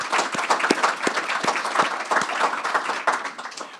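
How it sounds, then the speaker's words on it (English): An audience at a chamber of commerce community event in Oshkosh breaks into sustained applause, dense overlapping claps holding steady for several seconds before tapering slightly at the end. "A round of applause for Bank First for sponsoring this."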